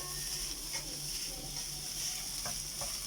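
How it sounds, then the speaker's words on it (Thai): Seasoned fried rice stir-fries in a pan in a small condo kitchen, with a steady hiss of sizzling and a few sharp scrapes and taps of the spatula against the pan. "แค่ลงกระทะแล้วก็ผัดให้มัน"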